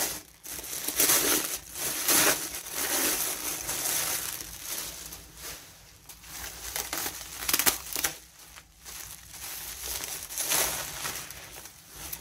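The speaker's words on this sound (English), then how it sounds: "it's got like 4 or 5 layers of bubble wrap" A glass piece is being unwrapped from four or five layers of bubble wrap, giving continuous crinkling and crushing plastic rustle with bursts of louder crackles throughout, close and steady, with no talking.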